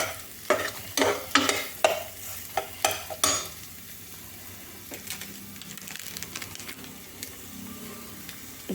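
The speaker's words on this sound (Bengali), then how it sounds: "নুন দিয়ে একটু নেড়ে দিই" A spoon stirs vegetables in a pan after salt is added, sending out several sharp scraping strokes close by, then a quiet, steady sizzle with occasional light taps.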